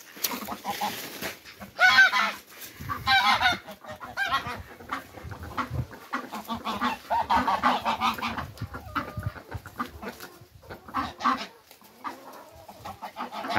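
Chickens and fowl cluck and squawk repeatedly at close range, a busy overlapping flock chatter with louder honking bursts.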